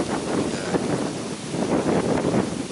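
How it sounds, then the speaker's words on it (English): Strong 35 mph gusts out of the northeast buffet the microphone in a steady, loud rush of wind noise, with no voices in between. "35-mile-an-hour wind gusts coming out of the northeast."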